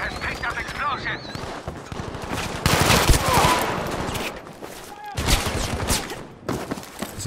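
Rapid bursts of M16A3 assault rifle fire in the video game Battlefield 5, with repeated volleys, distant shots and explosions from a busy battle, while a player talks over the action.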